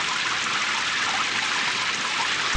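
Steady rain and flowing water form a dense, even hiss in a children's story scene, constant and loud without pauses, with no voices over it.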